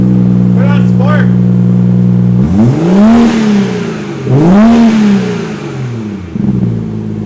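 A BMW F30 with a B58 engine and muffler delete idles with a steady drone, then revs hard twice in sport mode, each rise and fall loud and close, with voices talking over it.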